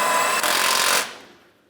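A power tool snugs bolts on a windshield washer reservoir in a 2008-2016 Chrysler Town & Country, one loud, close burst of whirring for about a second that then fades out.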